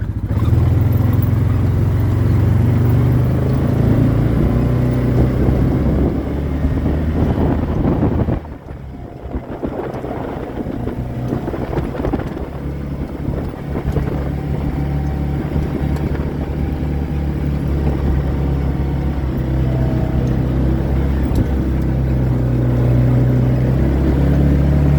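Vehicle driving slowly around a timber frame construction site: a steady low engine rumble with wind noise on the microphone, continuous and close, with a brief dip partway through, no talk.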